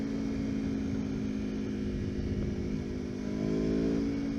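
An Aprilia Tuono V4 or KTM Super Duke naked motorcycle runs in second gear in race mode, its engine a loud, steady droning buzz with a slight rise in pitch and wind roar, no voices.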